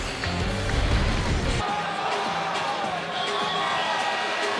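Basketball arena crowd at Wake Forest during a game against Duke, a loud roar of cheering that swells and then settles into a steady din, with squeaks and thumps from the court and a commentator talking over it.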